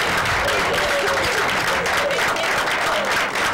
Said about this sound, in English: can we have a round of applause for these gentlemen?